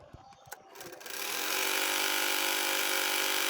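A sewing machine runs steadily, double-stitching a cotton fabric strap; after a few faint clicks and handling sounds it speeds up into a loud, continuous whirring drone that holds to the end.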